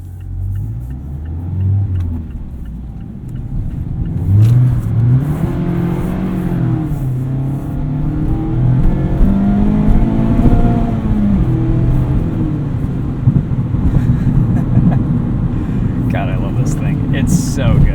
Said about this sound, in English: it's got a little bit lower of an engine note